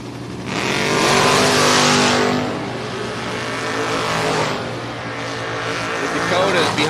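A Dodge Charger and a Dodge Dakota drag race side by side at a strip: loud engines roar and swell, peak, ease off, then surge again under continuous announcer commentary.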